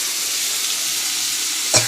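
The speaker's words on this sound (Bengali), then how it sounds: "আলুগুলো দিয়ে একটু নেড়ে চেড়ে পেঁয়াজটা টমেটোটা দেবো।" Potatoes sizzle steadily as they fry in a pan, a broad hiss running the whole time, with one brief louder scrape or clatter of stirring near the end.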